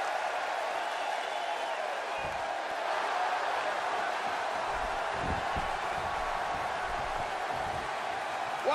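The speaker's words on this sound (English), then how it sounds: "Would you listen to this crowd show their appreciation for these amazing competitors?" An arena crowd at a combat-sports fight night cheers and applauds in a steady, diffuse roar, with a few thuds and louder swells partway through, heard from a distance.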